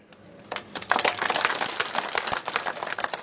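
A few people clap at a political rally, sparse uneven claps that start after a quiet moment and continue irregularly, moderately near and not building into full applause.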